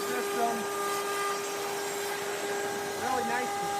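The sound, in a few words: vacuum dust extraction system on a pin router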